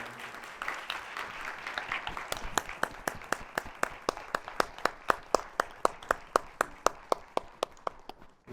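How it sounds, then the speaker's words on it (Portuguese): Audience applause at the close of an evening talk, starting as a dense wash of many hands and thinning into slower, sharper individual claps toward the end. "E agora eu queria só encerrar pedindo aplausos mais uma vez para o nosso querido Sérgio Alcides"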